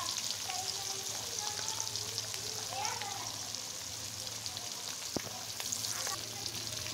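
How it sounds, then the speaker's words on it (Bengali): Hilsa fish pieces frying in oil, a faint, even, continuous sizzle with a soft crackle and occasional small pops, steady throughout with a low background hum. "এখন মাছগুলোকে খুব সুন্দর করে ফ্রাই করে নেব"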